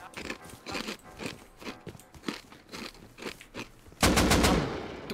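AK rifle fire in Rust: scattered footsteps and light impacts, then a sudden loud, sustained automatic burst near the end that stays strong until the clip closes.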